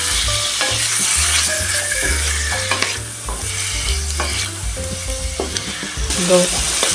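Chicken pieces frying and being stirred in a pot as the base for a chicken and vegetable soup, with a steady loud sizzle and repeated scraping stir strokes throughout, no talking.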